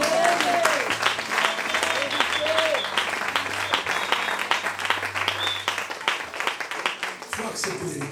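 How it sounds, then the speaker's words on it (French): A church congregation claps and cheers to acclaim the Lord, sustained loud applause from a crowd filling the room, with voices calling out over the clapping throughout. "On acclame le Seigneur."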